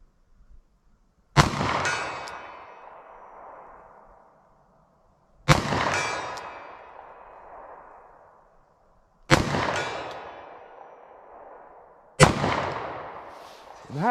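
Four loud, sharp gunshots from a Taurus 856 3-inch .38 Special revolver, fired one at a time about three to four seconds apart, each ending in a ringing, fading tail, with no talk over them.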